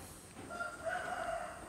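A live chicken held at the entrance of a meeting room during a customary blessing of honored guests, its crowing and clucking calls rising briefly over low background murmur, moderately close.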